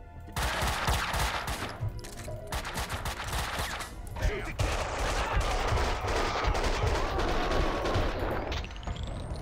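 Bursts of rapid gunfire crackle and boom through a busy battle scene in the video game Max Payne 2, loud and dense, with shots overlapping throughout.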